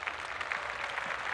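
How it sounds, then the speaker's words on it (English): Light scattered clapping from a few hands, faint and somewhat distant, with uneven rhythm over a soft background hiss. "Claps."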